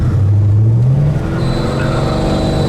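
A 1968 Pontiac GTO squeals its tires while the engine roars loud and close, a steady rising whine over a heavy low rumble lasting a few seconds, with no talk.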